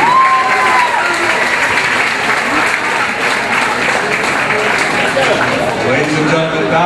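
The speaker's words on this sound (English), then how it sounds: "Let's have a nice round of applause for both boxers." Loud crowd applause at a boxing match for both boxers, sustained clapping and cheering around the ring with voices and a whistle mixed into the noise.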